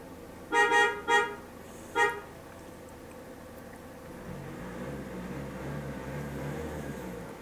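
Three loud horn honks blare in a narrow street too tight for a car, followed by a low rumbling truck engine idling and growling steadily nearby.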